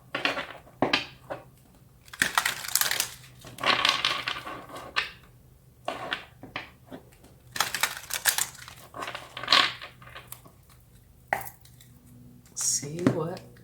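Tarot cards being shuffled and drawn make close, crisp bursts of riffling and slapping, irregular and scratchy, with short pauses between handfuls and a faint soft sound near the end.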